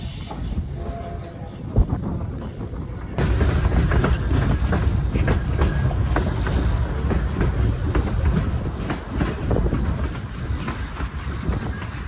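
A narrow gauge train leaves Osier bound for Antonito, Colorado, and rolls steadily with continuous rumbling and rattling wheel noise, growing louder after the first few seconds.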